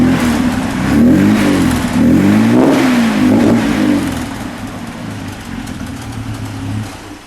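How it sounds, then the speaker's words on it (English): A 1938 SS Jaguar 100 3½ litre engine revving in a garage: close, loud rising and falling revs from the running engine, then settling back toward a steadier idle. "One more rev in the back while I'm back there."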